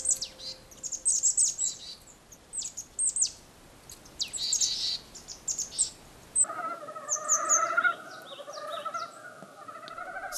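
Sparse winter birds in a pine-valley forest, Korean leopard habitat, give short high chirps and calls in scattered bursts, with a more continuous warbling song nearer the end over a quiet background.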